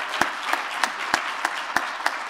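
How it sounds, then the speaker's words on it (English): Applause from the audience at the close of a medical lectureship event, a sparse scattering of claps with a few sharper individual hits standing out, moderately loud and steady with no talking. "Let's give Dr. Cohen a wonderful round of applause"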